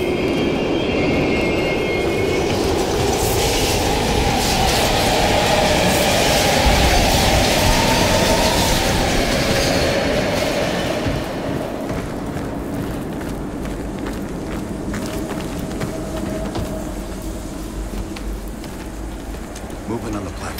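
In Call of Duty Black Ops, a train roars through an abandoned East Berlin station with a loud, continuous rumble. It stays heavy for about ten seconds, then settles to a lower steady drone, with game voices speaking over it.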